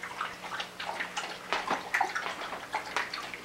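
Dogs lap up water at suppertime, producing a quick run of small wet splashes and clicks with a light irregular rhythm, close by and fairly soft.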